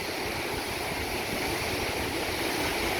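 Ocean waves crash into volcanic rock along the Maui coast, a dense, continuous roar of surf and churning water heard up close with no voices.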